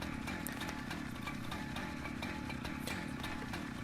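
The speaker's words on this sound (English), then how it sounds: "we've got our chainsaw with us so that we can start to cut trees ahead of the fire" Chainsaw cutting trees ahead of a wildfire in the firefighting video game EmergeNYC, a steady buzzing motor drone held at a constant level throughout, fairly faint and alone.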